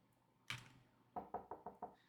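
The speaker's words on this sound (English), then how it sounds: "I'm woken up by a soft knock at the door" A soft knock on a bedroom door: one muffled thump followed after a pause by five quick, light raps in an even rhythm, close and quiet in a still room.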